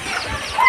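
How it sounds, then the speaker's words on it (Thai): A chicken clucks briefly at night in a rural Akha hill village without electricity. It is a short, moderately close call over soft background ambience. "มีเป็ดมีไก่จังซี่แหละทุกคนยามค่ำ"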